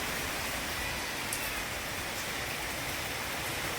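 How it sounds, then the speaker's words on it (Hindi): Steady heavy rain pours down outdoors in a dense, unbroken hiss, loud and close, with no voices over it. "क्या बारिश है, कभी भी बरसती है"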